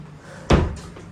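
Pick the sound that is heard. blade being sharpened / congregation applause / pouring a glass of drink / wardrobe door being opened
wardrobe door being opened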